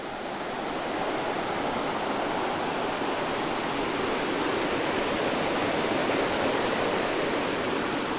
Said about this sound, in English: It's got a nice little waterfall right here.